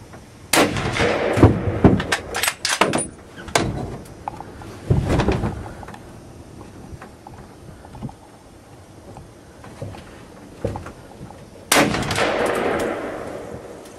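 A rifle shot is fired at a whitetail buck during a Midwest hunt: loud sharp near blasts and bangs in bursts early on, then quieter rustling and another sharp impact later, heard outdoors with no talking.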